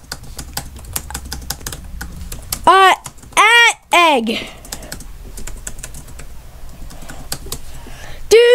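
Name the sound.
typing a chat message on a computer keyboard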